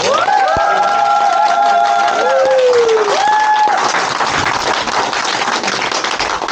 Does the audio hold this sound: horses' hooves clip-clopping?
no